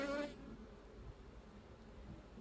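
Honeybees buzz at a hive in a faint, steady hum, with a brief louder burst at the start before the sound settles low and even.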